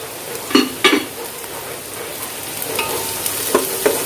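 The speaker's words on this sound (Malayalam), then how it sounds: "നമുക്ക് നന്നായിട്ടൊന്ന് വഴറ്റി കൊടുക്കാം." Onions sizzle as they sauté in a pan for a fish biryani, a steady close hiss broken by a few sharp scrapes and clinks of a spoon against the pan.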